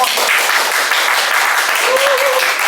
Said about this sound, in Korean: 우리 새싹팀에게 박수 한번 주세요